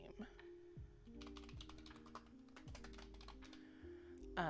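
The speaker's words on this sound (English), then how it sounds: "Hopefully my typing's not too bad." Keystrokes clatter on a computer keyboard in quick bursts and pauses, close and fairly quiet, with no talking over it.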